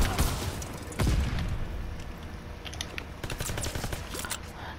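Rapid bursts of gunfire in the video game World at War, dense crackling volleys with sharp individual shots, mixed with clicking keyboard keys up close.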